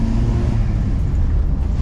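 A 1978 Volkswagen Passat LS on the move gives a steady, close engine and road rumble with a constant broadband roar throughout.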